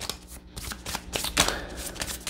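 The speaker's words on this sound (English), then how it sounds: "I'm going to shuffle and then pull through from the top." A deck of tarot cards shuffled by hand, riffling and slapping in quick, close bursts for about two seconds with no speech.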